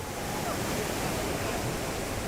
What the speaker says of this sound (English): Way bigger rapids and not so many rocks, so super fun.